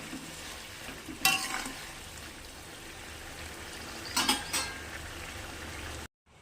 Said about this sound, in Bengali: চিনি দিয়ে একটু নাড়ায় নেব